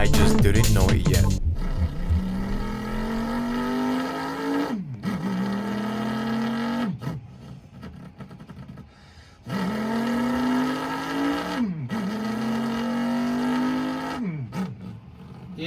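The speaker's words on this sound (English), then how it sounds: "One more car sound before we head out" A BMW M3 track car's engine revs up in several rising sweeps, each climbing then cutting off abruptly with brief pauses between, loud and close, with faint voices in the background.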